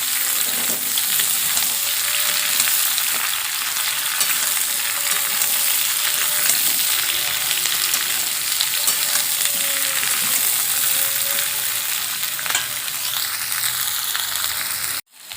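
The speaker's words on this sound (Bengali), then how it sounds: "আলুর সঙ্গে পেঁয়াজ আর কাঁচা লঙ্কা খুব ভালোভাবে ভেজে নেব" Potatoes with onion and green chilli frying in a pan, a loud, steady close sizzle running throughout with occasional faint scrapes of stirring, cutting off abruptly at the end.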